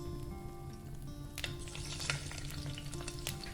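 Eggs cracked onto a very hot pan over a fire, a faint hiss that swells into a dense crackling sizzle partway through, close but quiet, over a steady low hum.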